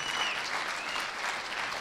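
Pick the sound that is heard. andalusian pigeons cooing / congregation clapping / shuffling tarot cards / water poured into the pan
congregation clapping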